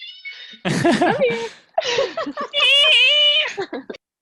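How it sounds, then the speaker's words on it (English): A cat meows several times in drawn-out, wavering cries, close by and loud, with short pauses between calls. "Did you just hear my cat meow?"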